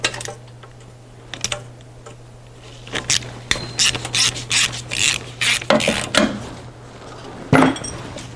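A ratchet undoes a bolt on the EGR tube of a Sprinter van engine, a few scattered clicks first, then a run of quick close rhythmic ratcheting strokes under a faint steady hum.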